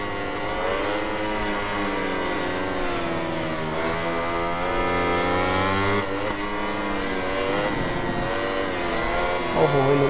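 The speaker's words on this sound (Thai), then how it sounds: "เปิดกันเร่งไปยาวๆผม" A carbureted 2002 Yamaha YZR-M1 MotoGP motorcycle engine held at full throttle, a loud, sustained high-pitched howl with rising and falling revs as it pulls through gears, close and continuous.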